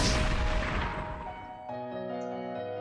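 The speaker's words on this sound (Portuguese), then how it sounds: "O homem apontou a arma para mim e atirou sem delongas." In a narrated horror story, a gunshot sound effect bursts out loud at the start and fades into a long reverberant tail, leaving a low sustained tonal drone.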